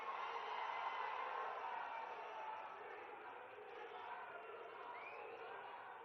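Audience at a public meeting for Telangana Chief Minister Revanth Reddy applauding to welcome him, a dense, steady wash of clapping and crowd noise that stays loud throughout and eases slightly toward the end.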